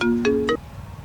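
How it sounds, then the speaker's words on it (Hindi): A phone ringtone plays a short electronic melodic tone pattern, loud and close, cutting off after about half a second. "केकर फोन अबे उठाइयो ना।"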